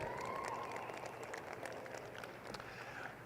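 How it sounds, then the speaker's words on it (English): An audience applauds livestock showmen at a junior market lamb show in a large arena, a steady, distant wash of clapping and crowd noise that holds evenly throughout. "big round of applause for our showman"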